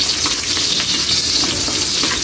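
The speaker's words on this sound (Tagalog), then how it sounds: "Gigisa muna natin, Kaylee, ang ating sangkap sa ating bagoong na napakasimple lang." Onions sautéing in a pan as the base for bagoong give a continuous, close sizzle with a crackling hiss throughout and no voices.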